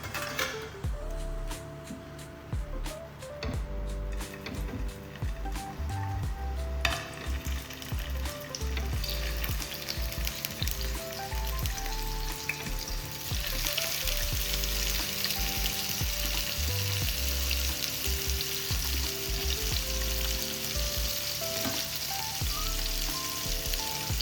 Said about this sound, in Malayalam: കുറച്ച് എണ്ണ ഒഴിച്ചു കൊടുത്തിട്ടുണ്ട്. നമുക്ക് ഓരോ ചിക്കനായിട്ട് അതിലേക്ക് വെച്ച് കൊടുക്കാം.